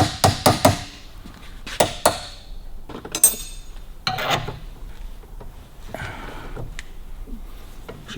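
Sharp metal strikes on a rusted Harley-Davidson WLC bolt while its threads are cut off, a quick triple burst, then a pair, then scattered knocks and scraping, close and loud with no talk.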